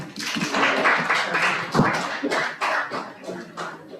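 A small group at a cybersecurity CTF training session claps briefly and unevenly, scattered close hand claps mixed with murmuring voices.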